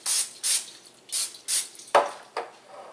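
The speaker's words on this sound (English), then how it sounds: "Take some more of this butter flavor spray." Several short bursts of butter-flavor cooking spray, pressurized aerosol hissing in quick succession, close up, with a light clatter near the end.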